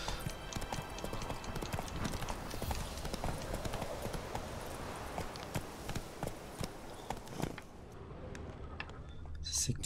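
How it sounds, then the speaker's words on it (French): Hoofbeats of the horse Hamlet galloping in The Witcher 3: Wild Hunt, a steady rapid clip-clop running throughout over a dense rumbling game soundscape, with faint talk. "Allez, au galop."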